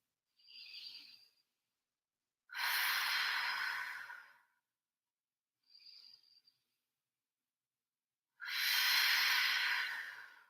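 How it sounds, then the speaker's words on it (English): Slow deep breathing during a yoga session, alternating softer inhales with long, full exhales in a steady rhythm, close and clear with no talking. "Let's just take 3 deep breaths."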